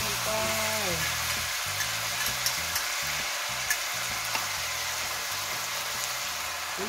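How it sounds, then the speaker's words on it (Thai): Seasoning paste stir-fried with oyster sauce in a hot pan gives a steady sizzling hiss with occasional spatula scrapes and knocks, close up, under a faint low background drone. "ยายจะผัดเครื่องก่อนนะคะ"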